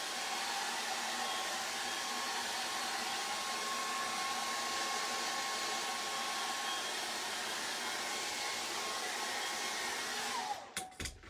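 A hair dryer blows steadily over a drippy acrylic paint portrait, a loud continuous whooshing whir that runs unbroken for about ten seconds before cutting off with a brief clatter.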